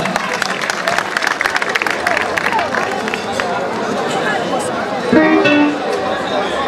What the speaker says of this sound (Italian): Applausi a Lello Cavallaro.